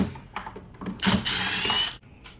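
Screws being backed out of a JBL Boombox speaker with a power driver, giving a loud mechanical whirring burst of about a second amid clicks and handling rattles.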